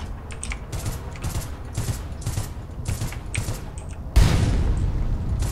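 Grenades and gunfire in APB Reloaded, a PC shooter, crackling in dense overlapping bursts, with a heavier booming blast near the end that stays loud.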